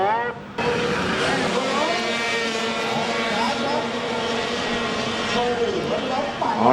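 Several jet ski engines in a Pro Runabout 800 Open race at the Jet Ski World Cup 2011 in Thailand, a sustained loud multi-engine whine rising and shifting in pitch at the start, with an announcer talking over it.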